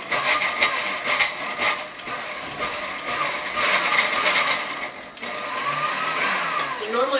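A blender whirs loudly while blending peach cobbler ingredients, a continuous high motor whine that dips briefly partway through and then resumes.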